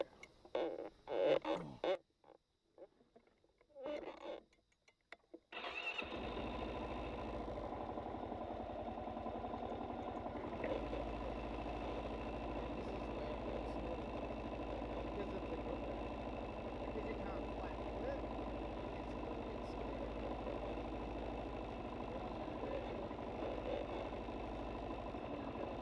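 Kawasaki KLR 650 motorcycle engine on a steep hill climb, a faint, steady mid-pitched engine drone running continuously after a few seconds of brief rustling and quiet gaps at the start, heard from close by with no talking.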